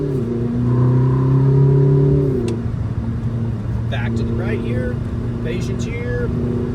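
A Ferrari 849 Testarossa engine drones steadily at close range on the Sonoma Raceway track, its pitch dropping sharply as though through a shift midway and then holding under load, while a voice talks over it.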